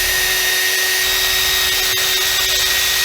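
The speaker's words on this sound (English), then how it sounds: "I take out the bridge, and I'm gonna drill these holes." A power drill bores holes into a Stratocaster guitar body at the bridge, giving a steady, close whirring whine that holds for about three seconds with no talking.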